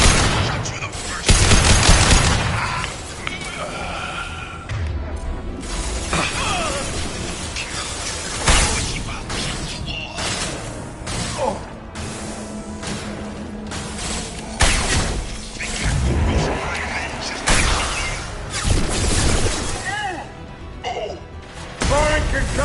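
Mass Effect 2 combat: repeated bursts of gunfire and sharp concussive blasts crack out in irregular volleys, mixed with shattering impacts and mechanical clatter while voices call out over the fighting.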